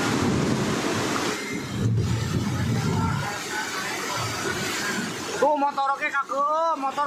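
Floodwater rushing during a flash flood on a road in the Puncak area of Bogor, West Java, during heavy rain, a loud turbulent roar with rumbling, followed by voices talking near the end.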